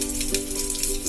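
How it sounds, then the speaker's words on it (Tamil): Mustard seeds splutter and crackle in hot oil as a tempering for dried-fish curry cooked in a clay pot, making a continuous fizzing patter with a faint steady hum behind it. "கடுகு பொரியுது."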